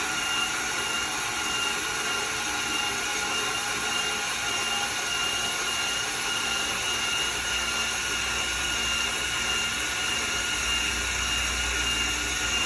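An AXXAIR pipe and tube saw runs at a steady, unchanging motor pitch while cutting tube dry without lubricant, a loud continuous whine and grinding hum with no voices.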